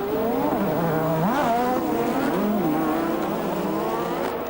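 Formula 1 race cars from the 1986 season, including Piquet, Senna's Lotus, Mansell and Johansson's Ferrari, scream past together after the start, their high engines rising and falling in pitch with a brief tyre squeal, loud and continuous.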